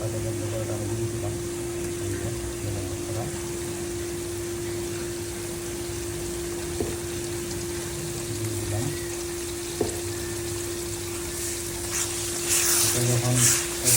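Chicken pieces sizzling in a pan with browning onion, ginger and garlic paste, a steady close frying hiss with a constant hum beneath, a couple of faint clicks, and a brief burst of clattering and splashing near the end.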